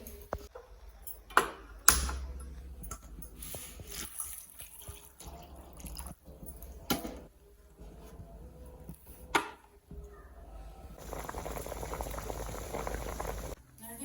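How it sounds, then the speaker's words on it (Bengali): Taro (mukhi kochu) boiling in a pot of water makes continuous bubbling and gurgling with scattered clicks and knocks, and the boil grows denser and louder toward the end. "তো চলুন আগে মুখি কচুটা সেদ্ধ করে নিই"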